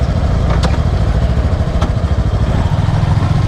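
Suzuki Gixxer SF 250 BS6 motorcycle engine on a test ride, a steady loud drone with wind buffeting, close and continuous, with a couple of faint clicks.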